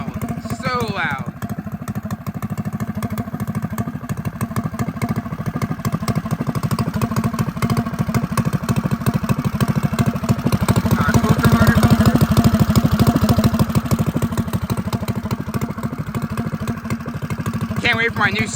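Small engine of a rebuilt full-suspension mini bike running loud and steady just after its first start, with a rapid buzzing rumble close by and slight rises in revs, with brief voices underneath.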